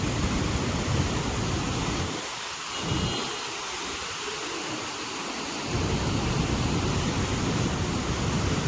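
Steady broadband rushing of the flooded, muddy Godavari River at Mahegaon Deshmukh, loud and continuous, briefly quieter in the middle before the full roar returns.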